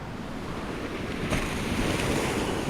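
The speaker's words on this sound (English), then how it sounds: "The wind, heretofore a gentle breeze, was picking up, and the sea was becoming choppy." Rough sea waves wash and surge around a lurching yacht as the wind picks up into a steady broadband roar, continuous and close, with no voices.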